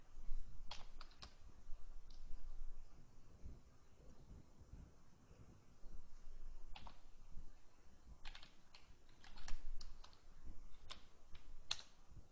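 Computer keyboard typing in quiet, irregular bursts of light clicks and taps, close but soft, with no speech.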